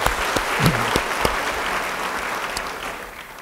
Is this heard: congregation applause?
yes